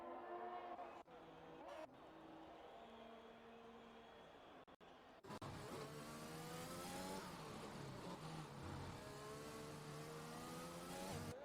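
Mercedes Formula 1 car engine on a hot lap in F1 2021, running steady then rising into a loud, rising high-pitched whine with stacked harmonics as it accelerates, with commentary-style talk over it.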